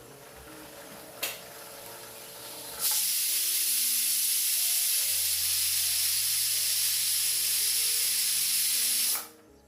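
A pressure cooker cooking dal methi over medium gas releases a loud, sustained hiss of steam for several seconds after a brief click, then abruptly falls quiet.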